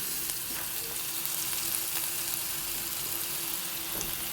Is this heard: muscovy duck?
no